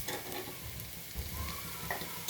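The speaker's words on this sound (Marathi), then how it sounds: "कढीपत्ता टाकला आणि शेंगदाणे टाकले. तर लाल होईपर्यंत आपण फ्राय करू." Onion, peanuts and curry leaves frying in a pan, a steady close sizzle with light crackles and a few stirring scrapes throughout, no voices.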